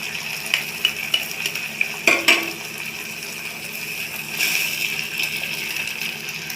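Eggs cracked into a hot pan and fried with rice in a home kitchen: a steady frying hiss with a few sharp clicks and taps early on, then a louder sizzle swelling near the end.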